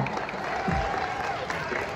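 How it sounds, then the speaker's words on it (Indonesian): Audience applause at an evening event about snakes, a dense wash of clapping under a murmuring crowd for about two seconds, fairly close and steady in level. "Beri tepuk tangan yang meriah."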